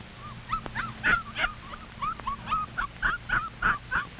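Puppies yip, whimper and give small barks as they play in their blanket-lined sleeping box, a quick run of high squeaky calls close by.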